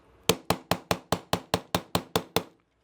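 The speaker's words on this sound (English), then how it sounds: "I'm just going to take the 1/8 inch punch and just tap them the rest of the way through." A 1/8 inch punch struck with a hammer drives a pin into the aluminum frame of a SCCY CPX-2 pistol: eleven sharp, evenly spaced metallic taps in quick, steady succession, close and clear, with no talking.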